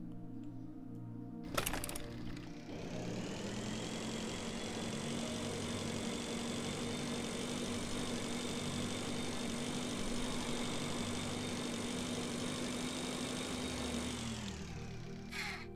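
Engine in the video game Breathedge, a steady droning hum that starts after a brief click and runs evenly for about twelve seconds before cutting off, close and constant with no talk.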